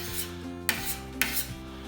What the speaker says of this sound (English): We just keep working that bondo down into that hole.